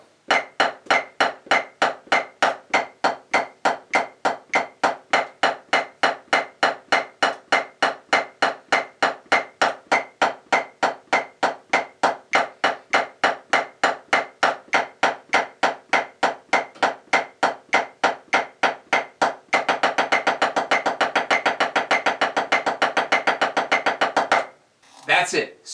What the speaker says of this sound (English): Here is a really simple exercise that I've used my entire drumming career